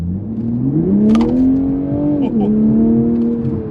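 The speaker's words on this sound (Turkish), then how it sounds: "Şimdi aracı normal modunda bir hızlandırmak istiyorum." A Toyota Supra accelerating hard in normal mode, its engine tone climbing steadily, dipping briefly at a gear change, then rising again. The engine is loud and close, heard from inside the car.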